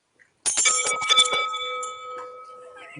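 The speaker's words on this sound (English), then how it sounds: "Humphrey heard the sound of a loud bell" A loud bell rings out once with a bright metallic clang, its tone lingering and slowly fading.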